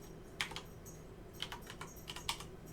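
Typing on a computer keyboard while naming a file in GIS software: a handful of quiet, separate key clicks in an irregular rhythm over a low background hum, with no talking.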